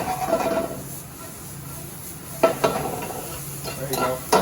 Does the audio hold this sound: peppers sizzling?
yes